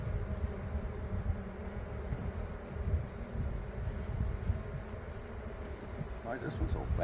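Bees at an open beehive during maintenance drone in a faint, continuous buzz, with a low rumbling hum beneath and brief movement noise near the end.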